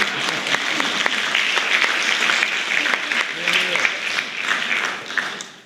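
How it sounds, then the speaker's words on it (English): Audience applause at a school district's State of the District address, brisk and dense clapping that stays strong and then tapers off near the end, with voices talking over it. "Can I get a clap, an amen, or something?"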